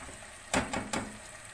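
Spiced potato slices being stirred in a pan for aloo katliyan, giving three short scraping strokes in quick succession over a faint background hiss, fairly close.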